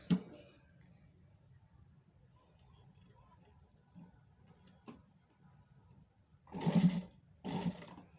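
Sewing machine stitching the joint of a high-neck collar seam: quiet faint ticking at first, then two short loud bursts of rapid needle chatter near the end.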